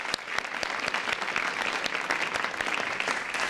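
An audience at a development awards event applauds, inviting the World Bank vice presidents, with dense, continuous clapping holding an even level throughout.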